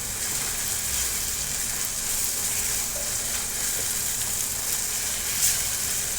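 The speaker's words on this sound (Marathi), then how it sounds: "असं व्यवस्थित मसाला तेल सुटेपर्यंत भाजायचा" Masala roasting in oil for a stuffed brinjal curry with dried shrimp sizzles and fries steadily at close range, an even crackling hiss throughout with no talk.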